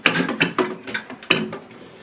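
A hotel room hairdryer compartment catch is closed with a few quick clicking mechanical snaps, close and clear, followed by a final firmer click.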